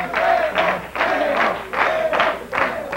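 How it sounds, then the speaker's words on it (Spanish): A television studio audience on a 1998 talk show applauds a group of neighborhood choreographers, a broad, loud wash of clapping in rolling surges, with a voice faintly audible beneath it. "aplausos para ellos, bravo"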